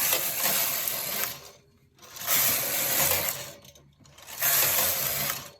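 The carriage of a domestic flatbed punchcard knitting machine is pushed across the needle bed, sweeping three rows, each a loud rasping mechanical whirr with clicking, separated by short pauses as it reverses.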